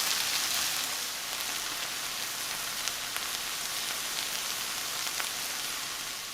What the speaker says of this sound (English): I'm going to continue to cook our ingredients on a medium-low heat for 4 minutes